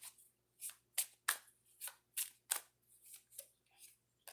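Oracle cards are shuffled and drawn by hand, making a series of about ten crisp, close riffling and flicking bursts at a quick, uneven rhythm. The bursts sound against near-silence, and no one talks.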